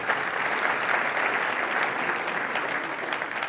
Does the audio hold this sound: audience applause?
yes